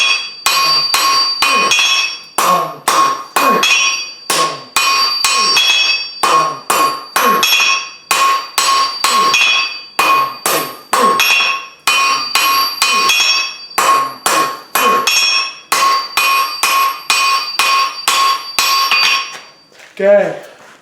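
Hammer forging hot steel into a tapered wreath hook, a rapid run of loud, ringing metal-on-metal blows struck in quick groups with brief pauses, each strike bright and bell-like, continuing steadily for the whole stretch.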